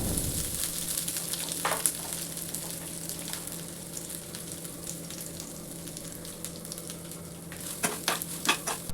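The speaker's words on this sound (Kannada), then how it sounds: "ಜೀರಿಗೆ ಹಾಗೆ ಸ್ವಲ್ಪ ಮೆಂತ್ಯಕಾಳು ಸೇರಿಸಿ ಚೆನ್ನಾಗಿ ಫ್ರೈ ಮಾಡ್ಕೋಬೇಕು." Cumin, fenugreek seeds, curry leaves, dried red chillies and coconut fry in a pan for a brinjal dish, a steady broadband sizzle with a few sharp stirring scrapes and clicks near the start and end.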